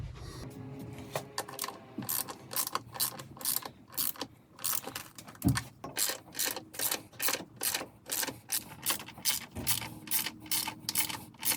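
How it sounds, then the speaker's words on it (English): Torque wrench tightening valve cover bolts on a Mercedes 190E 2.0, a close, rapid series of ratcheting clicks in repeated bursts with brief pauses between strokes, no talk. "we have to torque them with 15 Newton meters."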